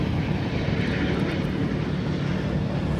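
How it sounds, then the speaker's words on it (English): A Boeing 777 jet coming in to land, a steady broad engine roar heard at a distance, continuous and even throughout with no speech. "777 landing in the background."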